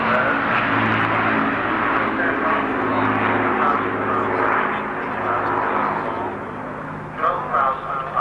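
Battle of Britain Memorial Flight aircraft in 103 Squadron markings passing at the Farnborough Air Show, a loud sustained engine drone that holds steady and eases slightly near the end, with talk over it.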